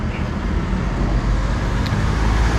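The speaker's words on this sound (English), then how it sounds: "dodging the traffic" Street traffic in Durres, Albania, a continuous heavy rumble of cars and motor vehicles passing close by, loud and steady with no clear speech.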